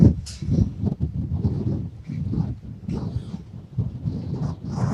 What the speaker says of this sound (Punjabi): ਫਿਲਹਾਲ ਤੂਫਾਨ ਬਹੁਤ ਹੀ ਤੇਜ਼ ਹੈ